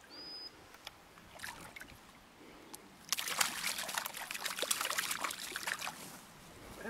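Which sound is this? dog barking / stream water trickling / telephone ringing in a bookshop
stream water trickling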